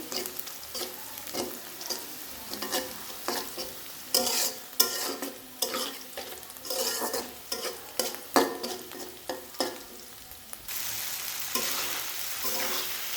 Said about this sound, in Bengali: আর এখন পেঁয়াজটা ভাজি করে নিচ্ছি।